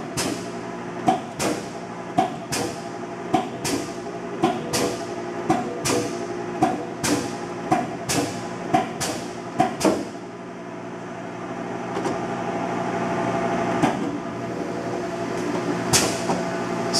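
A 1993 AIDA 165-ton gap frame press in a warehouse runs in inch mode, giving a series of sharp, evenly spaced clanks over a steady mechanical hum, then a quieter running stretch with a few more isolated knocks.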